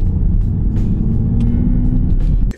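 Loud, close Mercedes car engine accelerating with a deep steady rumble and droning hum, cutting off abruptly at the end.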